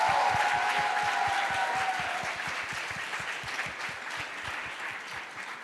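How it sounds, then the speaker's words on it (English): A large audience at a school symposium gives the band a long round of applause, dense, steady clapping that stays full and close before slowly thinning and softening toward the end. "so let's give them another round of applause."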